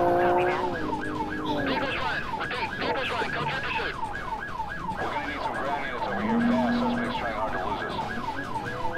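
A police car siren in the Drive Zone Online video game wails in a steady rising and falling cycle under game engine noise and other road sounds, fairly faint behind the action.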